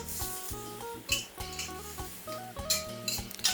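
Sweet and sour chicken being stir-fried in a pan, with a spatula clanking and scraping rhythmically against metal in quick, ringing strokes, close and fairly loud.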